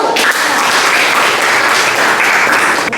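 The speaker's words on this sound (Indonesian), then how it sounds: "Beri tepuk tangan untuk kelompok 1." A classroom applauding a student group's presentation steadily, dense clapping that holds at an even level for about three seconds.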